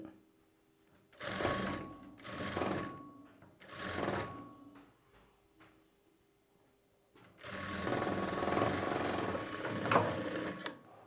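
A sewing machine stitches a blouse sleeve in short bursts, then runs one longer continuous stretch, its whirring needle loud and close with quiet pauses between runs.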